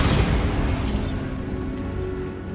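In Hogwarts Legacy, a Bombarda spell blasts a barricade with a heavy, rumbling boom already at full force, its crackling debris and roar slowly settling into a lingering low rumble.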